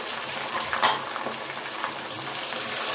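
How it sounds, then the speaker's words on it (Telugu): Tomatoes, mint, coriander and green chillies frying in a pan, a steady close sizzle with a few scraping, clinking stirs of a spoon against metal and no voices. "దీన్ని బాగా ఇలా ఫ్రై చేసుకున్నామండి"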